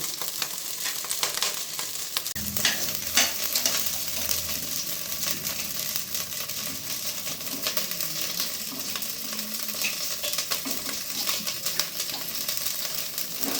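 Frying for chicken dum biryani: a steady, moderately close sizzle runs throughout with occasional stirring clatter and faint clinks, no voices.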